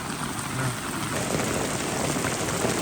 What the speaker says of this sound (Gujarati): વરસાદ તો જોવો યાર, આ ભૂકા કાઢી નાખે એટલો વરસાદ ચાલુ થઈ ગયો અચાનક